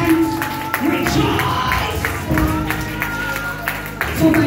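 Church congregation clapping hands in rhythm during a lively service, with a steady beat of claps mixed with music and a preacher's voice.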